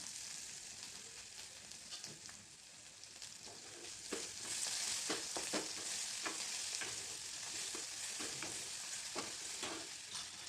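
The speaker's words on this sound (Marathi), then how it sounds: "आपला कांदा परतून झालेला आहे यामध्ये आलं लसूण पेस्ट" Onion frying in a pan with ginger garlic paste added, a steady close sizzle with scraping stirs that grows louder midway, no voices.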